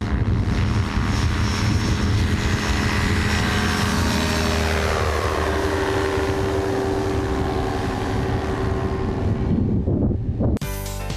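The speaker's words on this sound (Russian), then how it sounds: "Еще секунда, и они начнут взлет." Light aircraft taking off with riders aboard, its propeller engine droning loud and steady and close by, with wind buffeting the microphone throughout before the noise cuts off abruptly near the end.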